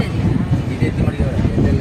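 Mumbai-Coimbatore Kurla Express pulling out of Mantralayam Junction, heard from on board: a loud, steady low rumble of rolling rail wagons with faint clatter, under a voice.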